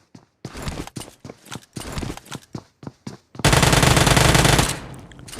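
Uzi submachine gun fire in the mobile battle royale game BGMI: a series of short loud bursts, then a sustained continuous burst, close and alone without talk.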